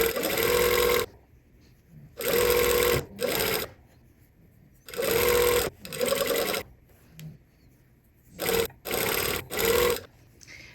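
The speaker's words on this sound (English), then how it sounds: "So now we just sew. This is piping." Sewing machine stitching piping made from bias tape, running in short bursts of one to two seconds separated by pauses, steady and close.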